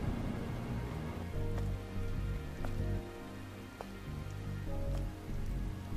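Rain falls across a ruined, colossal city in the video game Stellar Blade, a steady dense patter under a low ambient hum with faint tonal game music and occasional soft drip accents, continuous throughout.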